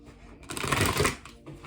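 A tarot deck riffled and shuffled in a burst of dense papery flutter lasting about a second, close and moderately loud, with quiet handling before and after.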